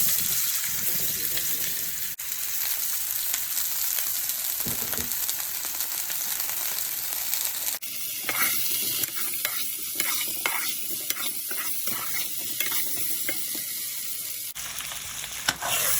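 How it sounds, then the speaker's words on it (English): Potatoes hit hot oil on medium-high heat with a steady, loud sizzle throughout, growing busier and crackling after the midpoint as stirring and scraping join in, with no talk. "Now that it's pretty hot, I'm just going to put the potatoes in."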